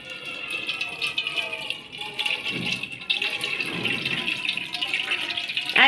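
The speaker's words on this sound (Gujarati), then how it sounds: "એના પછી આપણે એને છૂટ પાણીએ ધોશું." Running tap water rinses boiled noodles in a kitchen, a steady splashing rush that continues throughout, with brief rattling and a louder surge near the end.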